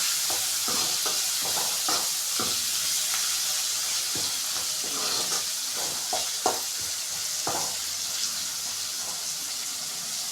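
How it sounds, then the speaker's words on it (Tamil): Snake gourd kootu being sautéed with coriander in a pan, a constant bright sizzle beneath repeated scraping and stirring knocks at an uneven pace, close up. "போட்டுட்டு நல்லா வதக்கிக்கோங்க."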